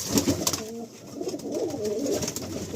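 Pigeons in a loft coo in low, rolling, overlapping calls close by, with occasional soft higher notes and light background noise.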